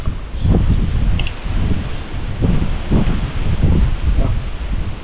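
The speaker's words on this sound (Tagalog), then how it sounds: "Lakas ng hangin." Steady, loud wind gusting and roaring across the microphone, with rustling surges rising and falling for several seconds.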